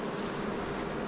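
Honey bees buzz steadily at a hive in Tennessee, a close, continuous drone with no gaps.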